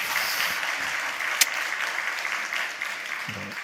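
Faint, steady applause from a congregation in a Baptist church during a sermon, a soft wash of many hands clapping at a distance with no voices over it.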